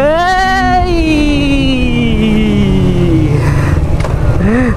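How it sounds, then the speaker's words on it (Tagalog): A two-cylinder big bike engine running with no muffler, loud and close, its raw note sweeping down steadily like a motorcycle decelerating, with a brief rising rev near the end. "Ang ganda na tunog ng makina nito. Partida, wala pang muffler to."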